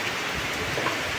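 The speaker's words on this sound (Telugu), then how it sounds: "మామూలుగా లేదు వర్షం" Heavy rain pouring steadily on a cold day around trees, a loud continuous hiss with no voices.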